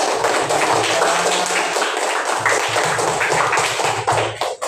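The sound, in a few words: clapping, applause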